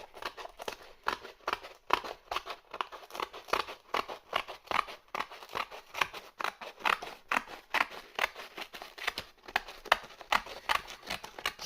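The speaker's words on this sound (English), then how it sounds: "I'm using the scissors to cut this out." Close, crisp scissor snips through cardboard repeat in a steady rhythm, each cut with a papery crunch, with no voices.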